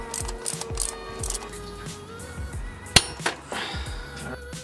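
A wrench tightens the main axle bolt on a 2000 Kawasaki Ninja EX250 motorcycle, giving quiet metallic clinks and ratcheting clicks in short irregular bursts, with one sharper clank near the middle.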